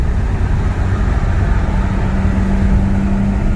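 A Volkswagen GTI with a Neuspeed front-mount intercooler pulls hard in fourth gear, a steady loud low engine drone with rising tone and constant road roar from inside the cabin.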